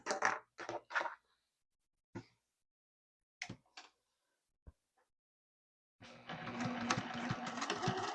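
A sewing machine stitches across fusible fleece on a mini drawstring tote bag, entering after a few scattered handling clicks and knocks and then running steadily and close until the end.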